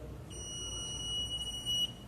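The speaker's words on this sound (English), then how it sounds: "it gives a buzzer at the low voltage value" A substation monitoring unit sounds a steady, high electronic buzzer alarm at abnormal voltage. The single continuous tone holds for about one and a half seconds, then cuts off, over a faint background hiss.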